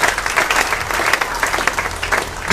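Congregation clapping together during a Sunday church service, a steady dense round of applause filling the room throughout, close and loud, with no talk over it.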